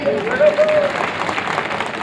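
Audience clapping at a public event in India where a deputy chief minister flags off a campaign vehicle; steady crowd applause continues throughout, with a voice briefly heard over it at the start.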